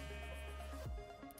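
A sheep in the Minecraft video game gives a single nasal, wavering bleat, loud and close, with a short game sound trailing after it.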